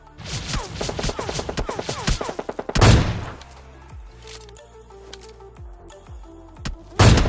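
Gunfire in the mobile battle-royale game PUBG Mobile Lite: a rapid, rhythmic burst of automatic shots, then heavier booming reports and scattered distant shots, ending with another loud blast, with no talking.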